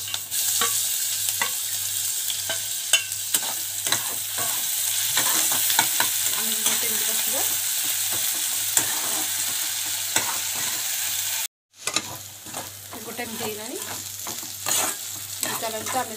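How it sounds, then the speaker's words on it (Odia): Ginger garlic paste fries with onions in a pan for a cauliflower and potato curry. A loud, continuous sizzle is punctuated by frequent scraping stirs, with a brief cut to silence before the sizzling and stirring resume. "ଏବେ ଅଦା ରସୁଣ ପେଷ୍ଟ ପକାଇଛି।"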